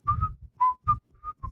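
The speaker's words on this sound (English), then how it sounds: "and so I whistled" A person whistles a short melodic tune of about six clear notes in quick succession, close and distinct, with low background rumble between notes.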